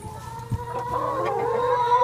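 A hen clucking in the nest box of a henhouse in winter as she goes to lay an egg, a close, continuous low murmuring cluck with one louder note near the start.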